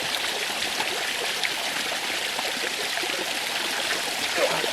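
Water in a stream flows and babbles steadily in Red River Gorge, Daniel Boone National Forest, a close, constant rushing with small trickles and no voices.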